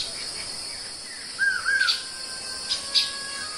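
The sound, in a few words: birds calling on the Paraná River islands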